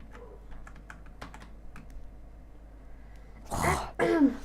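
Computer keyboard typing, heard as a run of sparse, crisp key clicks at close range, followed by a throat clearing and a cough near the end.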